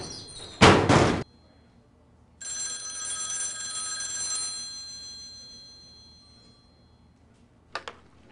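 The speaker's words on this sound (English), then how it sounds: "That's your phone." In The X-Files PC game from 1996, a telephone gives one loud ring burst. A long steady electronic tone follows and slowly fades, then a couple of faint knocks come at the end, with no voices.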